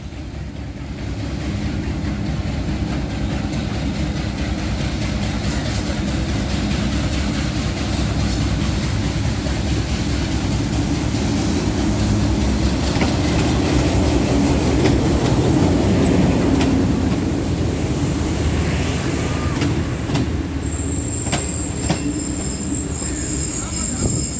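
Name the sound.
Rehman Baba Express train with PHA-20 locomotive 8308 arriving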